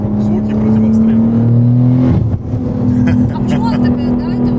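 A BMW M5 G90 engine revs hard, holding a loud droning pitch, dipping briefly and rising again, heard from inside the car with people talking over it.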